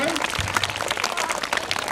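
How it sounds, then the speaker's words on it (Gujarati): Applause from the crowd at a primary school Republic Day event, greeting a donation: dense, steady clapping that fills the whole moment, with voices mixed in. "તાળીના ગડગડાટથી વધારી લઈશું આપણે"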